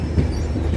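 A passenger train on the way to Puri runs along the rails with a steady, loud low rumble heard from inside, a continuous droning roar without distinct clicks.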